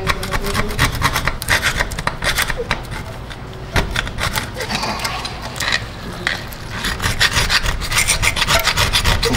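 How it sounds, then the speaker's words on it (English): A caliper file scrapes rust from a brake caliper on a Chevy Trailblazer, close and loud, in a rapid rhythm of rasping strokes that continues steadily throughout. "These are just our caliper files here. They're real good for getting off the big chunks of rust."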